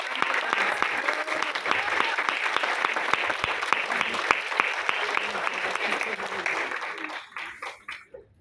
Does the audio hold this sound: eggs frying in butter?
no